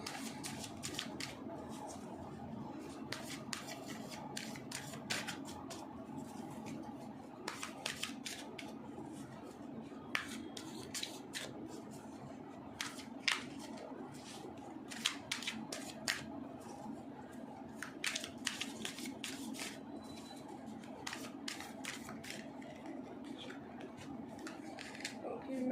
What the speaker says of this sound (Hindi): पहले मैं थोड़ा सा कार्ड शफल कर लेते हैं, फिर हम अपनी रीडिंग शुरुआत करेंगे।